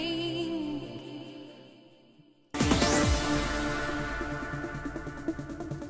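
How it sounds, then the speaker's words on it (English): A snare drum sits in a played electronic music mix, coming in after a quiet synth section breaks into a loud, dense full mix at about two and a half seconds, with steady drum hits under the layered synths. "you can hear the snare in the background there"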